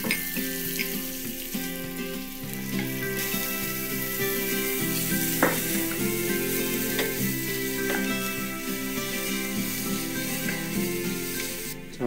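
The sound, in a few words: stir-frying carrots, zucchini and oyster mushrooms in a pan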